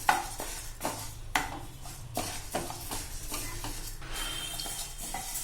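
Moong dal dry-roasting in a pan while a spoon stirs it, producing a soft, dry rattling hiss with a few sharper scrapes against the metal at an irregular pace, close and fairly quiet, with no talking.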